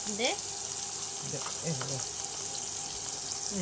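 Ginger paste frying in a pan for a rohu fish and cauliflower curry: a steady, quiet sizzle with faint scraping and stirring, while a voice talks over it.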